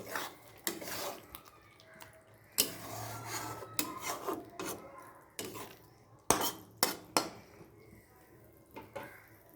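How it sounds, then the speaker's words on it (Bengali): Fried potatoes stirred into a cooked-down spice masala in a pan, repeated scraping and rasping strokes of a spatula against the metal, irregular bursts with quiet gaps, close and fairly soft. "আলুগুলো দিয়ে ভালো করে নাড়াচাড়া করে নেব।"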